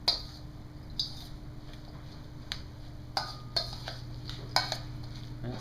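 Spoon stirring a stuffing mixture with croutons in a bowl, giving soft, repeated clinks and scrapes in an irregular rhythm over a low steady hum.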